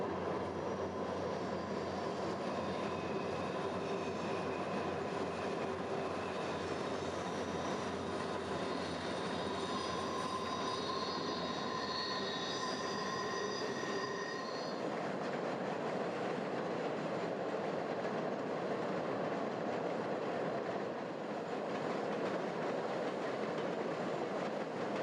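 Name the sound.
eastbound CN merchandise freight train crossing Anderson River Bridge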